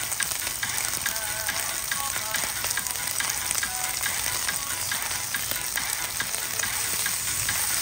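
Mixed vegetables sautéed with garlic in a pan, frying in a dense, steady sizzle with stirring scrapes running underneath, close up and unbroken with no voices.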